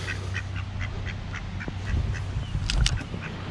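Ducks quack by a canal towpath near a lock, a run of short repeated calls at moderate distance over a steady low outdoor rumble, growing a little busier toward the end.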